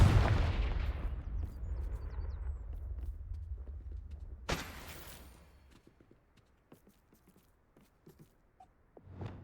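A Confringo blasting spell explodes in the Hogwarts Legacy video game, a loud booming burst at the start that rumbles and fades, followed by a sharp crackling blast midway and scattered softer impacts.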